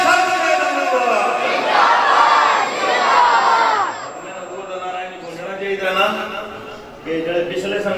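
A large crowd roars slogans in unison at a religious graduation gathering, loud massed voices swelling and fading in waves across the space.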